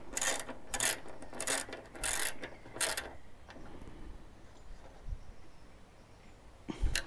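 Wrench tightening a screw on a motorcycle tank bag mount, heard as a run of close, sharp ratcheting clicks in bursts over the first three seconds, then quieter handling noise and a final click.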